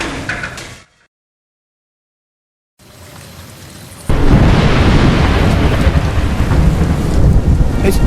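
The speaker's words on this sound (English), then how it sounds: "Thunder calls through the woods." Thunder rumbling through the woods in the video game A Juggler's Tale, loud and broadband. It follows a brief silence, builds, then swells into a sustained heavy roar like a storm with rain.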